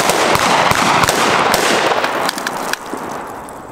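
Gunfire at a Green Beret range day in Pennsylvania, heard as rapid overlapping sharp reports from several shooters, loud and dense, tailing off toward the end.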